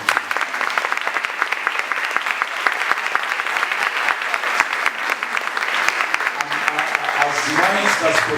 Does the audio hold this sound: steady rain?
no